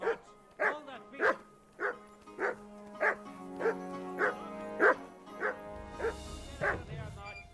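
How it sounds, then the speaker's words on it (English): A dog in Kingdom Come Deliverance 2 barks about a dozen times in an even rhythm of sharp, close barks, with a faint low hum in between. "No one wants to hear your barking. Such a naughty dog."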